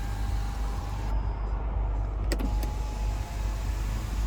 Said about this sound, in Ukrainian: Покажу вам, що працює люк, щоб ви не думали.